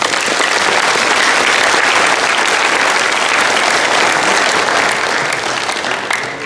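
A church congregation applauds loudly and steadily as the elderly pastor comes forward, a dense, sustained wash of clapping that fades slightly at the end.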